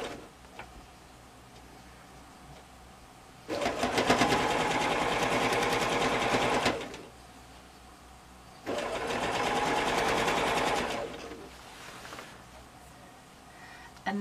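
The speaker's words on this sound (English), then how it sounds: "So it's just sewing the binding on, your usual 1/4 inch" A sewing machine stitches binding onto a quilt with a quarter-inch seam allowance, running in two loud, steady bursts of rapid needle chatter separated by quiet pauses, with no talk.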